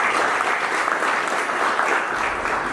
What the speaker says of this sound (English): Please give me a hand of applause.